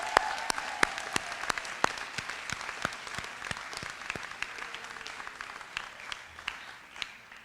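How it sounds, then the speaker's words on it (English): Applause for the faculty team at the SKA 2017 graduation ceremony, a steady patter of many clapping hands with sharp individual claps standing out, moderately distant and without voices. "May I ask for your applause as we salute our faculty team"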